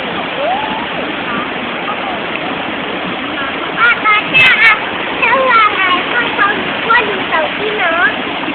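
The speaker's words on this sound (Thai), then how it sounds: "เรามาดูสภาพของน้ำตกเวลาเพชรอย่างใหญ่นะครับ" Rushing water from the large Sinphet waterfall, a steady dense roar with broadband splashing, while someone speaks over it and birds chirp faintly in the background.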